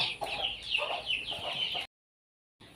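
Native country chickens on a farm cluck loudly and busily in an overlapping stream of calls, then fall abruptly silent for a moment before the clucking resumes at the end.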